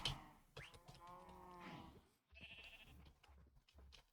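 Cows moo in long, drawn-out calls close by, one after another, with short shuffling pauses between them.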